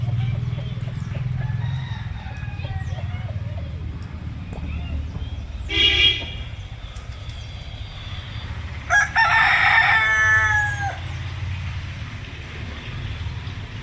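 A rooster crows near a house on a misty morning, sounding two separate calls, a short one and then a longer, louder one, over a steady low hum in the background.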